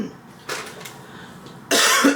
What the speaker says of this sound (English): Ooh, I have a cough,